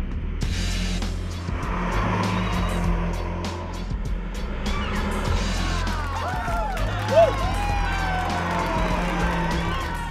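Race cars drive a final lap, engines droning and whining loudly with shifting revs and brief tire squeals, while voices talk over the noise.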